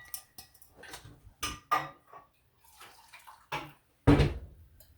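Blue dye is dumped into water, making a series of short splashes and sloshing pours with brief quiet gaps, ending in one louder splash near the close.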